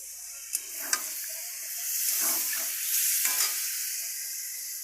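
Water tipped into a hot pan of vegetarian Bengali cauliflower, potato and paneer curry, hissing and sizzling steadily for several seconds after a couple of sharp clinks, with no talk.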